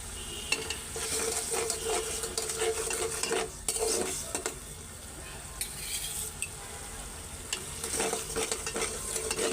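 Spice paste and onions stirring and frying in a pan, a steady close sizzle with repeated scraping strokes of a spoon against the metal, no voices.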